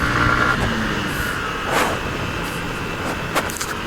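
A turbocharged Yamaha Aerox scooter's engine drones steadily under throttle on a ride, with a loud continuous motor hum and a couple of brief whooshing bursts over the top, no speech.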